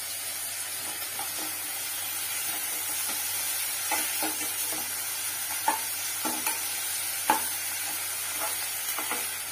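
Egg stir-fry sautéing in a pan, a steady sizzle and hiss broken by intermittent scraping stirs of a spatula, close and moderately loud, with no talking.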